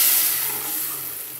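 Spiced masala frying in oil with water just added, a steady broad sizzle and hiss that starts loud and eases slightly as the liquid settles, close up and with no talk.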